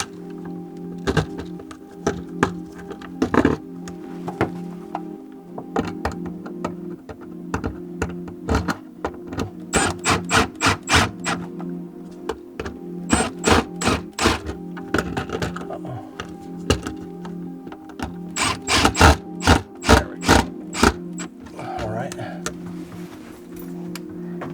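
Screws being driven by hand to mount an electrical outlet into its wall box, a series of sharp, close clicks and scrapes in irregular bursts, with some clusters of rapid ticking.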